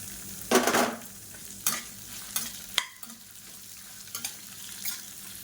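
Chillies and sliced onion sauté in a pan for chutney. A quiet, steady sizzle runs throughout, broken by a few sharp scraping stirs.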